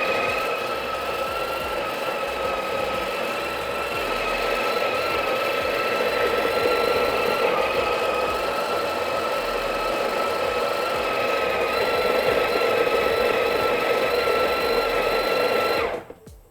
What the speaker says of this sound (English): Now we're going to grind an amount of coffee.